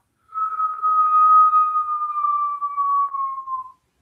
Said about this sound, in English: see if you can make a whistling noise as you inhale through the mouth